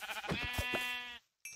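A Minecraft sheep bleats in the game, one clear wavering bleat that briefly cuts out before a thin tone resumes.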